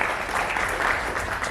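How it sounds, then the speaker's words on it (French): An audience at a press conference for an album release applauds in a steady, dense wash of clapping that holds at an even level throughout, with no clear talk over it. "Donc maximum d'applaudissements."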